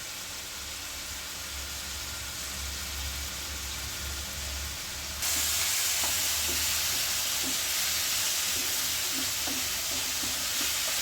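Thin coconut milk poured into bitter gourd curry frying in a pan for theeyal, a steady sizzling hiss that jumps louder midway as the liquid hits the hot pan, with faint stirring clinks.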